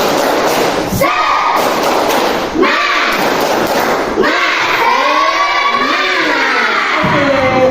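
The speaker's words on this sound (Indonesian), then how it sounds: "Pak Guru mengajak kalian untuk tepuk semangat biar kita semakin semangat untuk belajar." Primary school children at SD Negeri 2 Timba Nuh doing the tepuk semangat clapping chant: loud rhythmic clap bursts alternating with children's shouted chant lines, repeated several times close up in a classroom.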